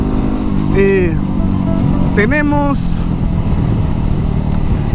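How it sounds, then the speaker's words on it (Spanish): A Yamaha WR 250X motorcycle engine drones loudly and steadily while being ridden, with a couple of brief rising revs, as someone talks over it throughout. "a la amada WR 250X, que es nuestra moto, que es esta que están viendo aquí, que estoy manejando"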